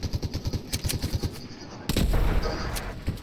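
Rapid gunfire in the video game Fortnite, bursts of shots in quick rhythmic succession followed by a louder, denser stretch of firing and impacts, close and prominent.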